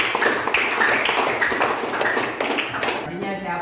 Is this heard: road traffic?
no